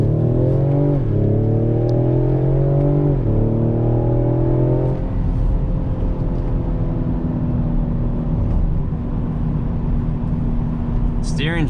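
A 2020 Ford Explorer ST pulls hard on a twisty road, its engine note rising in two strong surges before settling into a steady cabin drone, heard loud from inside.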